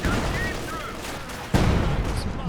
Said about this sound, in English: Nasty Zis barrage.